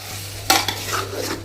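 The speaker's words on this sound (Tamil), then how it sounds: "பருப்பையும் போட்டுட்டு ஒரு நல்லா ஒரு கிளறிட்டு" A spoon stirs cooked dal into sambar rice in a pot, giving brief close scraping and wet sloshing strokes, one sharp clatter at the start, over a steady low hum with no talk.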